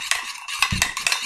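A metal spoon stirring coffee and sugar in a cup, quick clinks and scrapes against the sides in an uneven rhythm, close up and alone.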